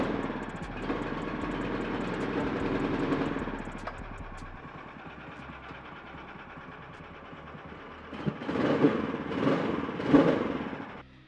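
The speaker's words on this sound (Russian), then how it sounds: "Сейчас мы запустим этот двигатель. Вуаля! Все работает!" A PROMAX Yakut 500 Long 2.0 four-stroke snowmobile engine turns over and settles into a steady, clattering idle, then revs up in a few louder surges near the end. Nobody speaks.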